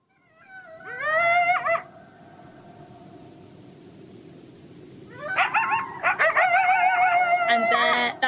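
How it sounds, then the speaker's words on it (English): A group of coyotes yipping and howling, with rising and wavering high-pitched calls in two bursts: one chorus near the start, then a denser, overlapping group chorus through the last three seconds, fairly close and loud. "the one that they're most known for is the group yip howl, and hopefully we'll be able to listen to that"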